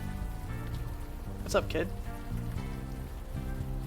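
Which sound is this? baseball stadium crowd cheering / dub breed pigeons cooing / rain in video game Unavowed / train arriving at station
rain in video game Unavowed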